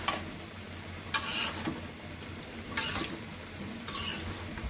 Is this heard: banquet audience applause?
no